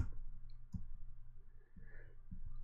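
A single key press on a computer keyboard, the W shortcut, gives a soft click at close range against a steady low background hum, with faint similar taps at intervals.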